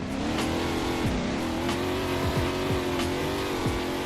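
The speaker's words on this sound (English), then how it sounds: "like proper drifting with the same tire you can use to race" Car drifting in the Roblox A-chassis racing game: a steady, loud engine drone holds throughout with brief dips and shifts in pitch, joined by faint tire scrub, with no talking.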